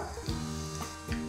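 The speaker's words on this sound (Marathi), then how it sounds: "मोहरी मस्त तडतडायला सुरुवात झाली की यामध्ये जाईल जिरं, अगदी चिमूटभर हिंग" Mustard seeds, cumin and a pinch of hing crackle and sizzle in hot oil for a tempering, a steady close fry with a few sharper pops.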